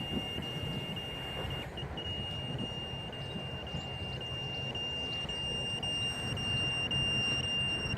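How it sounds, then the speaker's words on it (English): A Walkera Rodeo 150 drone's steady high-pitched low-voltage warning buzzer sounds continuously over a low rumbling motor and background hiss. "the buzzer is beeping. So it does have an LVC warning"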